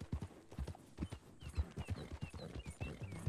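Horse hooves clip-clop in a quick steady rhythm in the video game Red Dead Redemption 2, close and continuous throughout, with faint game ambience behind.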